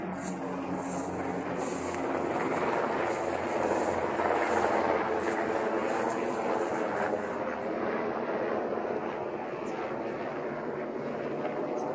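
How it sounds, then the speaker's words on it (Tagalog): Philippine Air Force helicopters flying overhead, a loud, steady broadband roar with rotor throb that holds at a constant level throughout, near and dominant with no speech. "Shout out po sa Philippine Air Force, dumaraan dito sa amin ang kanilang mga helicopter."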